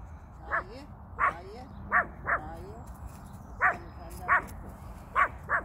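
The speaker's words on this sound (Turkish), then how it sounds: "Oradaki köpeğe mi havlıyor?" A Pomeranian dog barks in about eight sharp, high yips spaced unevenly over several seconds. The barks are moderately loud and heard over a low background rumble.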